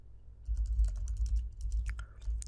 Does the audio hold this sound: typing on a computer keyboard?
yes